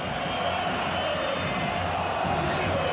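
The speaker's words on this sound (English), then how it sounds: "the chants of the crowd, listen, boring." Football stadium crowd at the 1998 Argentina vs Netherlands match chanting "boring", a dense, continuous roar of massed voices at steady volume with no pauses.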